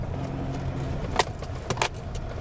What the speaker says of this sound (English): An Echo, Winnebago Echo going by me.